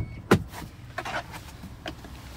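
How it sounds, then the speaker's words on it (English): Motorized sliding side doors and rear hatch of a 2018 Dodge Grand Caravan Crew Plus open, with a sharp latch clunk followed by motor whirs and softer release clicks, close by and no talk. "I can also press a button to open up my doors"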